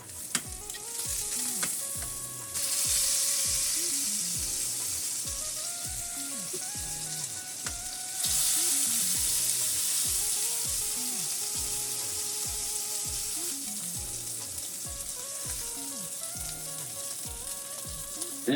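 Sous vide sirloin tip roast searing in a very hot pan, a loud steady sizzle and frying crackle running throughout, swelling louder twice as the meat is flipped and pressed back down.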